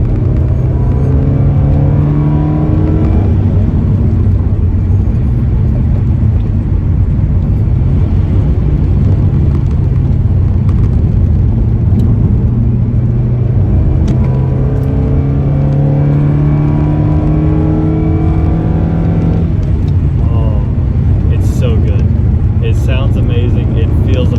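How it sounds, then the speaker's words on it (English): A 1990 Toyota Celica GT-R engine revs loudly up and down in repeated rising and falling sweeps, a steady, throaty roar close to the listener. "And just listen to this engine."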